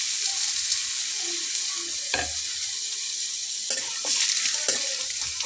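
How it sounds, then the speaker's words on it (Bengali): Chopped onions fry in hot soybean oil in a kadai, a loud continuous sizzle with occasional stirring scrapes and bursts of crackle, heard close up with no voices. "তো আমি এখন দিয়ে দিচ্ছি পেঁয়াজ কুচি করে নেওয়া"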